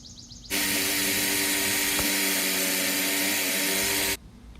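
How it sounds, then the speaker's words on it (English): A jigsaw cuts into a rubber tire with a steady, loud motor buzz that lasts about four seconds, then stops abruptly. "we started with the jigsaw, and that turned out not so easy as we thought"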